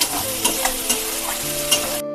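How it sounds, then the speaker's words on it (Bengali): Masala spices frying in oil as they are stirred for a meat curry, a dense, bright sizzle with rhythmic spoon scrapes, close and loud, ending abruptly. "এই যে মশলাটা কষানো হচ্ছে, এর থেকে পুরো তেলটা ছেড়ে দেবে যখন"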